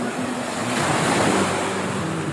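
Sea waves wash steadily onto a beach in a continuous broadband rush of surf, loud and close, with a brief swell in the middle and wind buffeting the microphone throughout.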